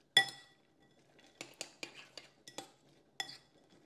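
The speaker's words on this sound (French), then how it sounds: "Maintenant, il ne reste plus qu'à mélanger la préparation." A seasoned mix with salt and paprika is stirred in a bowl, with a handful of sharp utensil clinks and scrapes against the dish in an otherwise quiet setting.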